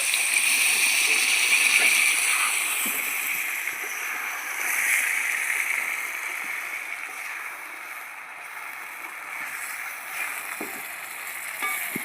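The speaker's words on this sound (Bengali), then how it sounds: "সামান্য একটু জল দিয়ে দিচ্ছি" Water splashes into a pan of spiced chicken chaap, bursting into a loud, steady sizzle that hisses and crackles close up and gradually settles over a dozen seconds.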